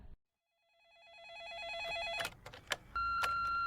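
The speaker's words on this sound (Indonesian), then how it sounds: "ada telepon masuk" A telephone rings in a film scene, its warbling electronic trill rising out of near silence and then sounding as a steady, clear tone alongside clicks and rustling.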